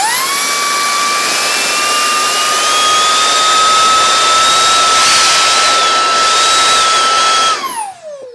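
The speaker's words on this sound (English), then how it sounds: "I am going to bring down my XGT 40 volt blower just to get a reading" A Makita XGT 40 volt cordless blower runs at full power, a loud close whine and rushing roar holding steady for several seconds, then spinning down sharply at the end.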